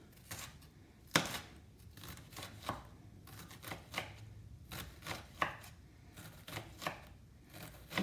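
A knife chops onion on a cutting board for ham and beans, a quiet, irregular series of sharp taps and dull knocks close by, with no talking over them.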